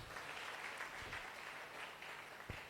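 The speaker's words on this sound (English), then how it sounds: "If you are not beefing them, clap for them now." Audience at a conference claps in a continuous, fairly distant round of applause, with a couple of soft thumps near the microphone.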